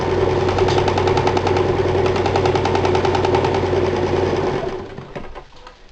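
A sewing machine stitches two pieces of fabric into a pot holder envelope, running in a steady, close, loud rhythmic whir that stops near the end, with no talking.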